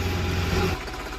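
A tractor engine runs during plowing in a farm field, a steady low rumbling drone that holds for under a second before dropping to a quieter, rougher tone.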